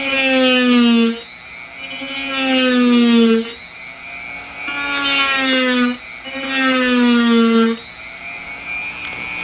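Handheld rotary tool cutting into a windshield wiper motor, a loud, close, high-pitched whine that repeatedly rises and dips in pitch as the cut bites and eases off.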